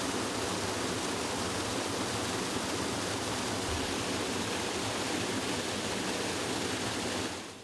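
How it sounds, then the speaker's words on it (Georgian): A small river near Tbilisi swollen by heavy rain rushes in flood, making a dense, continuous roar of churning water with no break. "პატარა მდინარე ადიდდა."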